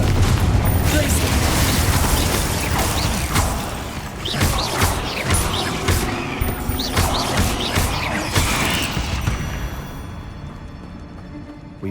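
Spell blasts and explosions from Hogwarts Legacy, including Bombarda and Confringo casts, come as repeated sharp bangs and crashes over heavy rumbling game sound, with mechanical clunks and debris between the hits.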